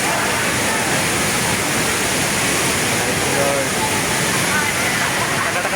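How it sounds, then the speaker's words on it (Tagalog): Ditumabo Mother Falls in San Luis, Aurora Province roars as a loud, continuous wash of falling water, close and steady throughout, broadband and unbroken. "Dito Mabo Mother Falls, San Luis, Aurora Province."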